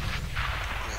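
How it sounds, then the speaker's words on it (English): A grenade explodes in the military shooter Arma 3, a deep, loud rumbling blast that fills the whole moment with heavy low-end roar. "Grenade out."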